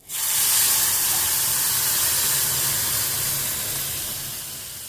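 A loud burst of sizzling hot oil erupts as a turmeric tempering for dal hits the pan, holding as a steady hiss, slowly fading toward the end, close by with no talking.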